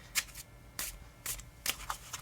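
A tiny mini tarot deck being shuffled by hand in a few quick, soft riffling bursts with short pauses between them, close and quiet.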